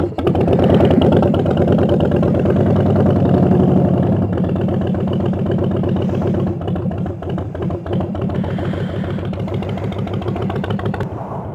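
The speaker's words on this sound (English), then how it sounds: "I kickstart the bike, or I try" A Spicy 110 motorcycle engine running, a loud, close, steady idle with a rapid regular clatter that eases slightly in level partway through, no talk.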